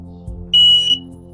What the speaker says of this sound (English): It's gonna make that beep and that'll probably be it.